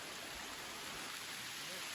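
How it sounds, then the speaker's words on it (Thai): Dense, steady rainfall hisses evenly throughout, a constant wash of heavy rain growing heavier, with no voices standing out. "ไอ้ฝนก็เล่นตัวหนักขึ้นเรื่อยๆนะ"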